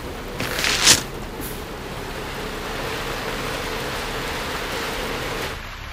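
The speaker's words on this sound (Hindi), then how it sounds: "बारिश।" Steady rain falls in an outdoor setting, a continuous broadband hiss lasting throughout, with a brief louder swell near the start before settling into an even wash that fades slightly at the end.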